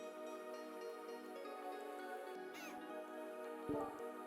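A cat meows several times in a room, close and clear, over a steady background hum.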